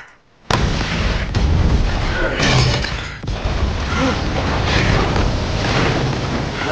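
Bombardment explosions in the 2022 action comedy film The Man from Toronto: after a moment of near silence a sudden heavy blast erupts into a sustained, loud rumbling roar of continuous explosions.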